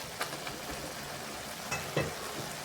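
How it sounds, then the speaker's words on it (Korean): Broth boiling down hard over high heat with green onion added, a steady dense sizzle and bubbling throughout with a few light stirring clicks, close up and with no talking. "국물을 졸여줄 거예요."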